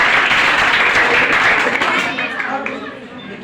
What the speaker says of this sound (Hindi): जो क्वेश्चन सही जवाब बताएगा आप लोग ताली जरूर बजाइएगा